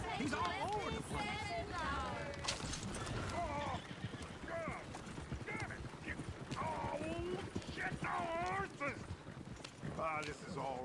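Steady clip-clop of horse hooves under constant talking and chatter, with a horse whinnying now and then in a busy Red Dead Redemption 2 scene.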